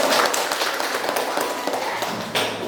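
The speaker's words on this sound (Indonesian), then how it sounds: "Oke, tepuk tangan dulu." A classroom of students claps their hands together, a dense, lively patter of many close claps that holds steady for a few seconds.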